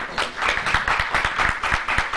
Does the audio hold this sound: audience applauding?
yes